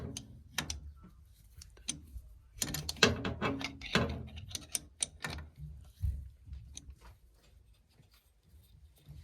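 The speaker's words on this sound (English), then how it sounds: "we'll just use the wrench for the rest" A wrench turns an oil filter canister on a rooftop HVAC unit, producing a series of sharp metallic clicks and ratcheting ticks in irregular clusters, close and moderately loud, then thinning out.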